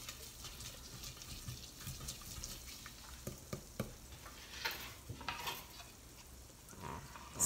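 Garlic sautéing in a pan gives a faint, steady sizzle with soft stirring scrapes and occasional light taps, quiet and close, with no voices.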